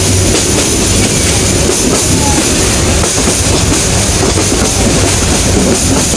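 A passenger train rumbles loudly and continuously along the rails, a dense roar with faint rhythmic clatter of wheels, heard close from inside or beside the carriage.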